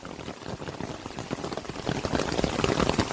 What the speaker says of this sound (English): Pretty serious hailstorm right in the middle of the summer.